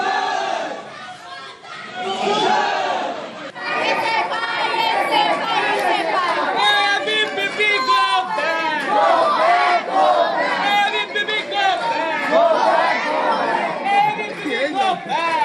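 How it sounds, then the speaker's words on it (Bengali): SFI and ABVP students trade rhythmic slogans and counter-slogans on the College Street campus of Calcutta University, a dense crowd of shouting voices rising in waves, loud and close throughout. "এসএফআই এবিভিপির স্লোগান আর পাল্টা স্লোগান"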